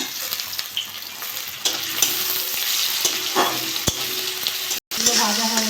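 Fish oil sizzling in a pan with chillies as a pumpkin and potato fry is cooked, a steady broadband crackle with scattered pops and a brief stir, close and fairly loud with no talk.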